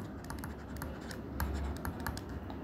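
Steady clattering of a computer keyboard as a C program is typed, with close, quick keystrokes in an uneven rhythm and a few heavier key presses, no voices.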